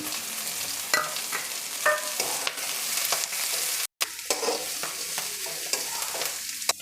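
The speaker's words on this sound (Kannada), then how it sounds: "ಈ ಮೆಂತ್ಯ ಸೊಪ್ಪೆಲ್ಲ ಚೆನ್ನಾಗಿ ಫ್ರೈ ಆಗಿದೆ" Fenugreek leaves, onion and curry leaves fry in a pan with a steady, loud, close sizzle, broken by frequent scrapes and clinks of a spoon stirring, and no talking.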